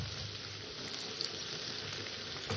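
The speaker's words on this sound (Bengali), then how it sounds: "আমার সবজিটা ভাজা হয়ে গেছে" Mixed vegetables, including green peas, fry in a wok with a soft, even sizzle that stays steady and fairly quiet throughout, with no voices.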